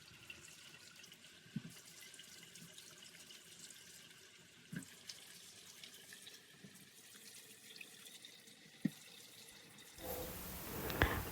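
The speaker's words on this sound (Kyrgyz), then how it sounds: "Алгач кара өрүктү тазалап 2 ирет жууп алабыз." Black plums rinsed under a running kitchen tap, a steady low wash of water with a few faint splashes and knocks, then a louder, fuller gush of flowing water near the end.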